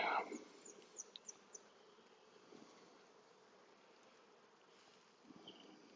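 Honeybees buzzing in an opened hive during a hive inspection: a faint, continuous hum with a few brief, louder buzzes as individual bees pass close by.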